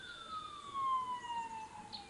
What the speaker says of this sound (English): that's an ambulance